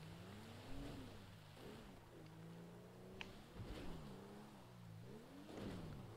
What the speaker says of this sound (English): This car. Just listen to it. It sounds like it's fucking about to like implode there.